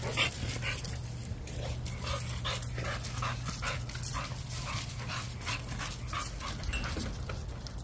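Several dogs in kennels pant and whimper, soft rhythmic panting bursts with occasional thin whines, quiet and close, with no talk.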